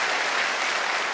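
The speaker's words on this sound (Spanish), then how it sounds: "Un aplauso para él." A studio audience on a Spanish television show applauds for a guest, a brief steady wash of many hands clapping, close and full, with no talk over it.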